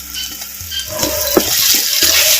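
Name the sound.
ginger garlic paste sautéing in oil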